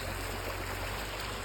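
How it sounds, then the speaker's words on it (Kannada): Water pours steadily into a collecting pool, a dense continuous rushing wash heard up close with no voices. "ನೋಡಿ ಅಲ್ಲಿಂದ ನೀರು ಬರ್ತಾಯ್ತಲ್ಲ, ಇಲ್ಲಿ ಇದಾಗ್ತಾ ಇದೆ ಶೇಖರಣೆ."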